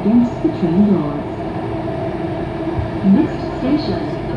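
An Alstom SMRT metro train runs through a tunnel between Dhoby Ghaut and Mountbatten, its low rumble and wheel noise filling the car in a steady roar, with brief rising squeals and swells that sound close and enveloping.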